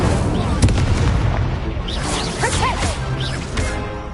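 The Incendio fire spell is cast in Hogwarts Legacy, a rushing whoosh and fiery blast with bright swirling magical chimes over a dense, rumbling battle-effects background.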